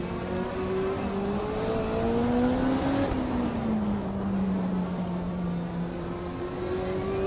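A BMW race car engine in the Assetto Corsa racing game drones steadily, its pitch climbing and falling through gear changes with a brief dip and then renewed acceleration, loud and continuous with no speech.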